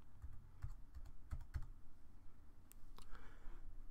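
Number keys tapped on a computer keyboard during Creo Parametric part modelling: a short run of soft, irregular clicks at moderate distance, with no speech.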